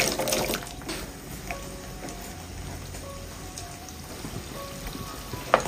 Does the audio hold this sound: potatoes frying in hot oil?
yes